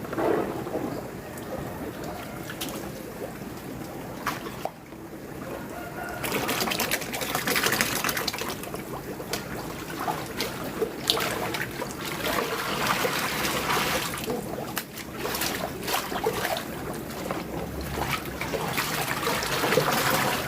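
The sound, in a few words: aerator bubbling water in biofloc fish pond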